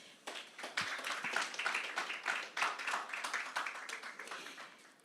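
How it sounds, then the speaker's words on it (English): An audience at the launch of a flagship report gives a round of applause for the panel members, a sustained patter of clapping that swells and fades over about five seconds with no voices on top. "Ladies and gentlemen, your panel members, a round of applause."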